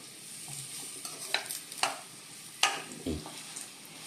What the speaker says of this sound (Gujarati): આપણે આને ઘીમાં થોડુંક શેકી લઈ